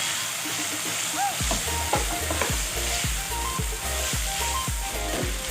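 Chicken dropped into a hot pan with sautéed garlic and onion and turmeric, starting with a loud splash of sizzling followed by rhythmic stirring scrapes over continuous frying crackle.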